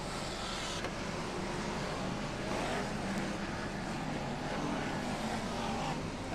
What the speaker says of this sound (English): the lead cars go around turns 1 and 2 and on their way into the back straight